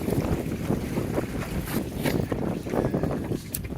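Welsford Navigator small sailboat double-reefed in high wind with building whitecaps and swell in a bay, heavy wind buffeting mixed with water slapping and rushing along the hull, close and continuous.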